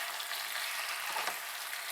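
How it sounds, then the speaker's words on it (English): Potatoes frying in a skillet give off a steady bright sizzle, close and even, with a brief stir partway through and no speech. "Let's give those a quick stir."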